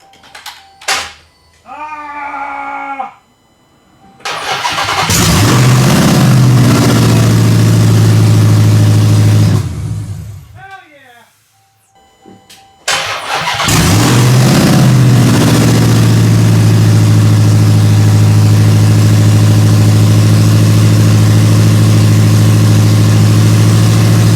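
A Hellcat car engine cranks and starts with a couple of tries, then settles into a loud, steady running rumble that surges as it revs.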